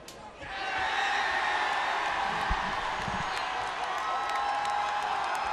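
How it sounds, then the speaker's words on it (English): Loud, sustained crowd cheering and roaring at a high school football game between the Armstrong Falcons and Blaine Bengals, swelling in within the first half second and holding steady throughout, with scattered whoops and a brief thump partway through. "Crowd's going wild once again."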